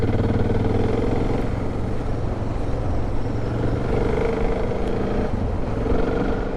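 Motorcycle riding along the sandy Holland Track between Mt Holland and Coolgardie, with a steady, loud engine drone and rough rumble running continuously throughout, alone without talk.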